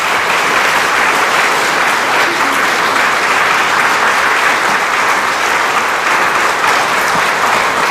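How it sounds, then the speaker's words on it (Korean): A large indoor audience at a faith testimony lecture gives dense, continuous applause to welcome a retired four-star general to the stage. The clapping stays loud and even throughout, with no talking. "우리 박찬주 대장님 나오실 때 큰 박수로 여러분들 환영해 주시길 부탁드리겠습니다."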